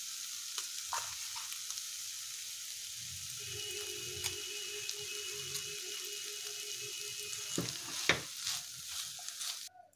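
Spinach fry in a pan crackles and sizzles softly as a spice powder of ground lentils and dried red chillies is stirred in, with a spatula scraping intermittently and a louder clatter near the end.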